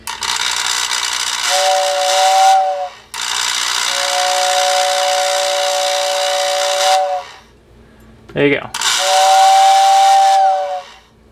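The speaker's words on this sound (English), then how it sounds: "There it is. Your whistle tender whistling." A Lionel toy train's whistle tender blows long, breathy steam-style whistle blasts with a strong hiss, three sustained bursts separated by short pauses and a brief mechanical clunk, loud and close.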